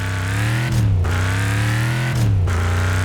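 Car engine held at full throttle in the racing game Burnout Dominator, a loud steady roar that twice climbs and drops sharply as gears shift, with no voices over it.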